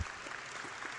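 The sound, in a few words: audience applause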